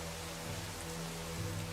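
Steady rain falls in a Naruto anime scene, a soft, even hiss of drops holding at low level throughout with no voices.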